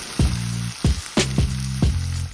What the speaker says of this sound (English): Give all the ingredients a good mix.